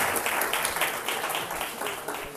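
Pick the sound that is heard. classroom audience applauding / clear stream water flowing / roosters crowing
classroom audience applauding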